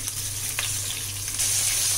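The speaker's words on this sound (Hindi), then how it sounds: "और हम इसको हाई फ्लेम पे पकाएंगे, और इसे ज़्यादा देर नहीं लगेगा क्योंकि ऑलरेडी ये थिन स्लाइस है" Thin-sliced chicken coated in cornflour fries on a high flame, a loud, steady sizzle with faint crackles and no voices.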